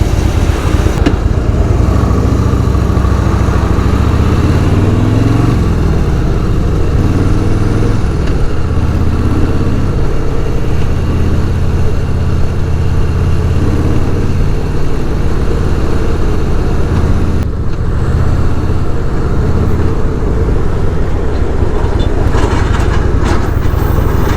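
Motorcycle engine running steadily while riding on rough roads, continuous loud drone with rising and falling revs through shifts, close and unbroken for the whole stretch, no talk.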